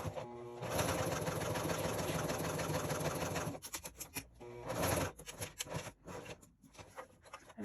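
A sewing machine runs steadily stitching a wristlet around its sides, a loud continuous whir for several seconds, then stopping and starting in short bursts with brief pauses.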